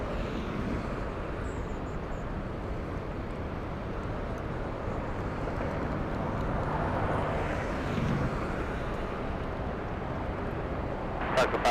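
A WestJet airliner takes off from runway 24 Left at LAX, its jet engines a broad, steady distant roar that swells slightly midway, with faint radio-style voices in the background.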